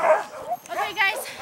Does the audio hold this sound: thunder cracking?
no